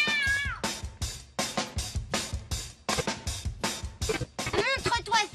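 A cartoon cat in a French animated series meows again and again in rapid, warbling cries that rise and fall, loud and close, with brief voices among them.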